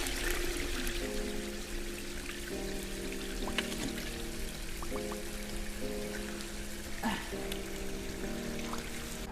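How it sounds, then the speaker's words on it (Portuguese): Water pouring and trickling through open irrigation channels in a farm setting, a steady gurgling flow with splashes, while faint tonal sounds come and go in the background. "a gente abre as portinholas e a água vai correr por cada um desses canais"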